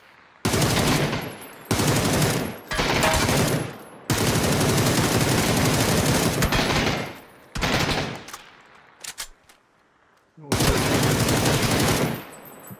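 Loud bursts of automatic gunfire in PUBG, several long rattling volleys broken by short gaps, then a quieter stretch before a final burst.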